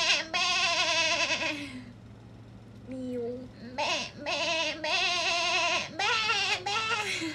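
A person mimics a goat's bleat with several wavering, nasal cries in a row, close and loud, separated by brief pauses, with other voices talking around the imitation.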